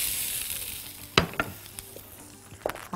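Chicken kofta sizzles quietly in a hot pan, a soft steady hiss broken by a few sharp crackles and pops.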